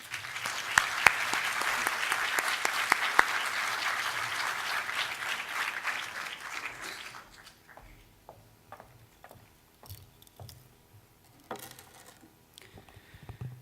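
An audience in an auditorium claps steadily for several seconds, then the applause fades into scattered claps and light shuffling in a quiet room.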